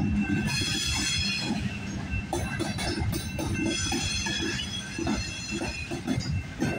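A CPKC freight train rolls past at night, its wheels squealing in sustained high-pitched tones over a dense clatter of rail cars passing close and loud, with no talk.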